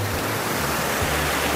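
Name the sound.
Svarants waterfall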